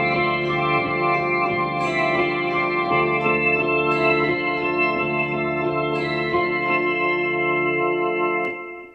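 An electric guitar runs through an effects pedal on a prog setting, producing a thick, organ-like chorused and distorted tone with echo, steady sustained chords and notes that ring for several seconds before cutting off.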